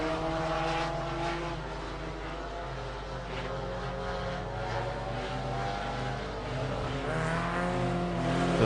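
A 2.2 litre VTEC Honda Prelude super saloon race car on a dirt track drones past with a high revving engine note that rises and shifts pitch, loud and continuous, with no voices.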